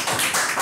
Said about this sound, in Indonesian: Kasih tepuk tangan pada beliau.